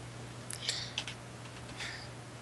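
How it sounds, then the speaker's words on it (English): Faint clicks of someone typing on a computer keyboard, a few scattered keystrokes at quiet volume over a steady low hum, with no talk. "Someone's typing."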